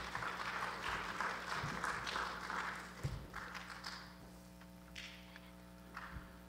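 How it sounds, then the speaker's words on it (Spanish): Warm applause from the audience at an anniversary ceremony of a physical education school, welcoming a faculty dean. The clapping is soft and distant, with steady room hum and a few thumps, fading gradually. "a quien vamos a recibirlo con cálidos aplausos"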